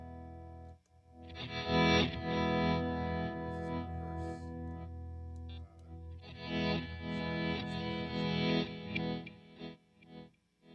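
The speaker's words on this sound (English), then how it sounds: "that's a reverse reverb, so I can put them together." A guitar runs through a pedalboard reverse reverb, chords swelling up in backward-building washes of ambience in two long phrases, heavily processed with modulation and grit, with a short pause between them.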